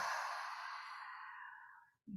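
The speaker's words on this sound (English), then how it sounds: "a big, long, slow breath out" A long, slow breath out during yoga breathing, a steady airy exhale lasting about two seconds that gradually fades, close and alone before a brief sound at the end.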